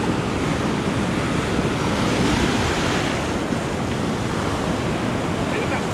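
Ocean waves breaking close to shoreline rocks on a sea fishing outing, a steady loud roaring wash of surf mixed with wind buffeting the microphone, continuous throughout with no distinct pauses.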